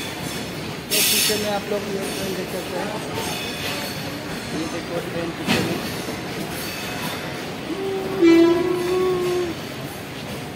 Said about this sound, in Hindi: ये देखो ट्रेन निकले था।